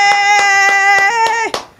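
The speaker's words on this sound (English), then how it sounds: "Do we have any hand claps? Did you get any hand claps?" About six sharp hand claps in an even rhythm, laid over a sustained electronic tone that cuts off near the end, with a final clap ringing out.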